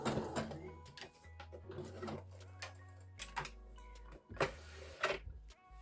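A sewing machine fitted with a slim adjustable foot stitches an invisible zip, running in short bursts of fast mechanical whirring and ticking separated by brief pauses, close and moderately quiet, with no talk.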